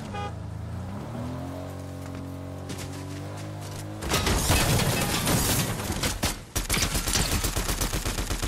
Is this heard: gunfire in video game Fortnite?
yes